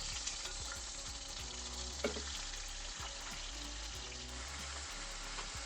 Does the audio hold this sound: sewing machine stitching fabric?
no